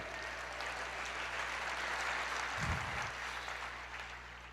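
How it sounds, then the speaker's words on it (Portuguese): A church congregation applauding during a sermon, a steady distant wash of clapping with a brief low thump partway through. "Aplauda mais e bem,"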